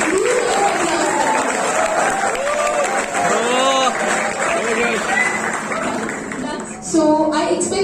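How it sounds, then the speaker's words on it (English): An audience at a university Teacher's Day event applauds and cheers for invited guests, a dense sustained wash of clapping mixed with crowd voices throughout. "loud clap for our guests."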